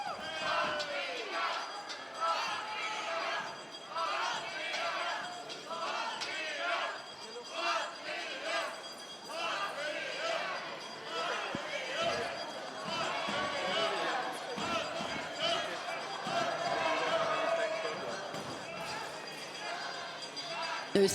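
Supporters in a crowd at the Bocuse d'Or cooking competition cheering and making noise, a continuous roar of shouts and clapping in a large hall, mixed with a commentator speaking throughout.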